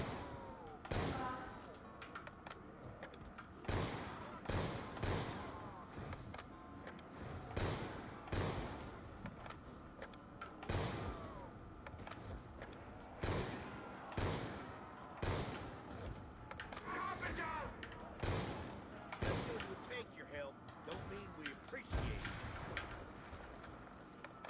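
Gunshots ring out in the Buried video game, a long run of sharp, loud reports spaced about a second apart with a low background murmur between them.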